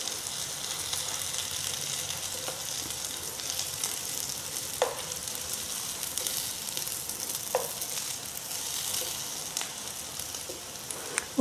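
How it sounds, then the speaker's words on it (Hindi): Kebabs sizzle as they fry in a pan over very low heat, a steady close hiss and crackle with occasional small pops and clinks of turning. "आप देख सकते हैं एक एक कबाब हमारे अच्छी तरह से सिक रहे हैं।"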